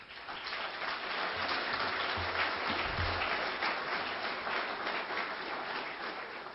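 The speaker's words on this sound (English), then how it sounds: "So let's give them a round of applause." A crowd applauds for the Telemundo media network at a speech event, a dense, steady patter of clapping that sounds rain-like and continues for several seconds at moderate level.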